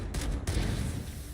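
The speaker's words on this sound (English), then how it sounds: "let's just shoot the pistol here" Pistol shots ring out in the video game Halo: Campaign Evolved, two quick loud cracks in close succession followed by a booming decay.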